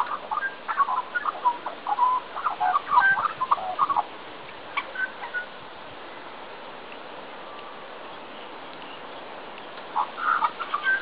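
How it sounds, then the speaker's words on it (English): An Australian magpie calls near a golf course in the suburb of Kambah, with bursts of bright warbling notes that come and go over faint background hiss, pause for a few seconds, then start again. "And this little beauty is a magpie."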